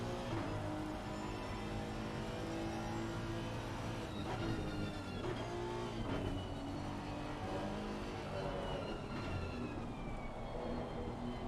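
BMW race cars in an Assetto Corsa Competizione endurance race at Suzuka, a continuous roar of engines with rising and falling pitch as cars pass, steady and fairly quiet throughout.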